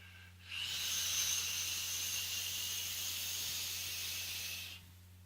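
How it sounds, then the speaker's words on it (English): A steady, breathy hiss from a long draw on an e-cigarette filled with a strawberry-apple e-juice in a thick 70/30 mix, lasting about four seconds alone, close up, then stopping abruptly. "Let's give her a vape."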